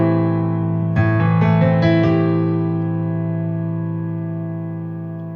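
Piano chords ring out from a sustained low chord, with several fresh chord strikes around the first and second seconds, then a long decaying sustain with no talking.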